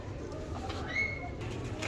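A pigeon gives a soft, low cooing call with a brief rising whistle-like tone in the middle, set against steady low background rumble.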